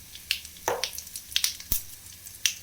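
A tempering of asafoetida and vadagam fries in hot oil for fish kulambu, making scattered sharp crackles and pops against an otherwise quiet background.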